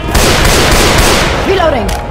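Rapid, loud gunfire from Left 4 Dead 2 bursts close up in dense overlapping volleys, with a voice calling out briefly near the end amid the shooting.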